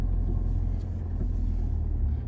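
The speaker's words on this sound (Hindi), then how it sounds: "ट्रैफिक बहुत हो रहा है यहाँ पे।" Road traffic near Haldighati, a steady low rumble of passing vehicles heard from close by, with no talk over it.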